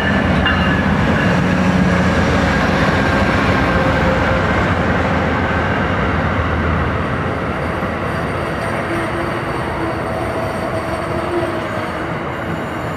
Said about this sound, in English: We have a northbound Amtrak Silver Star number 92 arriving at Hollywood Station.